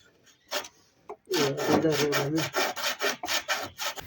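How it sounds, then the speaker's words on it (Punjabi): A hand saw cuts through wood during rural Punjabi room-building work, with one person holding the piece steady by foot. Loud, close, even back-and-forth strokes repeat rhythmically after a long initial pull, with no talk over them. "ਤੈਨੂੰ ਆਰੀ ਚਲਾਣੀ ਨਹੀਂ ਆ ਰਹੀ ਇੱਧੇ ਆ ਤੂੰ ਪੈਰ ਰੱਖ ਮੈਂ ਚਲਾਣਾ"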